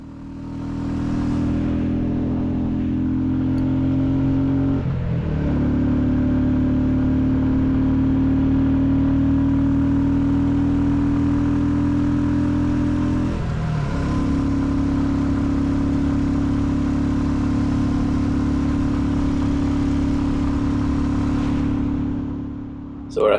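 A Royal Enfield Classic 350 riding in third gear, its steady thumping engine drone holding close and loud for the whole stretch, with two brief dips where the throttle eases.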